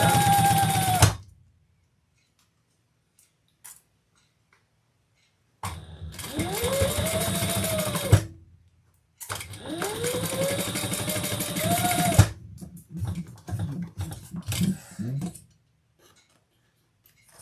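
A sewing machine top stitches a handbag in three separate runs, each whirring burst rising in pitch as it speeds up before stopping, with quiet pauses and light clicking between them.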